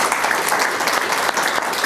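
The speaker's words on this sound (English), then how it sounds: "Let's have a round of applause for these guys." Steady, dense applause from a sizable crowd at a university speaker series event, loud and continuous throughout without any talking.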